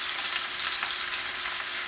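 Ravioli fry in a hot pan, giving a dense, steady, close sizzle that stays loud and even throughout with no talk.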